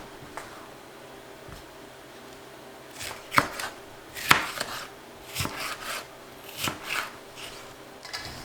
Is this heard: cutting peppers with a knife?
yes